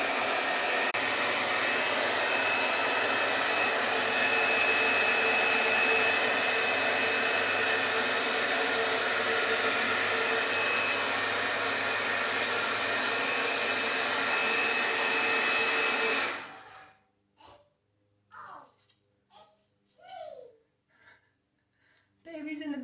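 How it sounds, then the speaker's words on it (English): A hair dryer with a diffuser attachment blows with a loud, steady roar held close for about sixteen seconds, then shuts off, leaving quieter sounds and some speech. "Then you turn that diffuser on and hold it in place for as long as you can."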